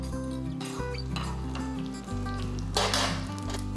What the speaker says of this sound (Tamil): எட்டு முந்திரி பருப்பு உடச்சி வச்சுருக்கேன் இதையும் நல்லா வறுத்துக்கலாம் நெய்லேயே வறுத்துக்கலாம்